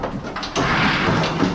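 A barn door slides and bangs shut with a single loud thump and a rattling scrape, in a cattle barn where bulls are checked after hoof treatment.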